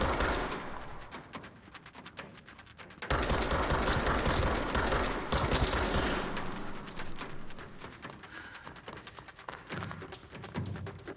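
Rapid bursts of enemy gunfire and rocket blasts in the action game Control, loud, rattling volleys coming in clusters, heaviest in the middle stretch, with shorter sharp shots and mechanical clanks toward the end.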